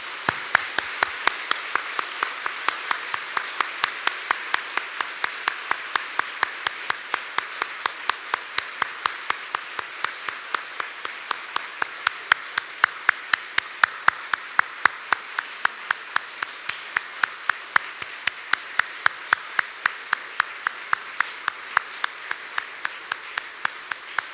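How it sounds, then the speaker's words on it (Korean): A church congregation giving a long, thunderous round of applause during a Sunday worship service, dense steady clapping from a large crowd with rhythmic unison beats emerging as it continues. "우레와 같은 박수로 선생님들을 축복하고 응원해 주길 바랍니다"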